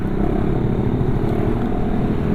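A Yamaha XMAX scooter with a Prospeed aftermarket exhaust revs up close, giving a loud, continuous, deep throaty drone that holds steady throughout.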